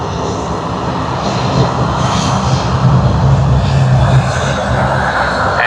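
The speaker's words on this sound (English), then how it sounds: "And here's another Dash 8-400" Dash 8-400 turboprop airliner at Sydney Airport passes with a steady droning engine roar that swells slightly midway, fairly close and loud, no voices.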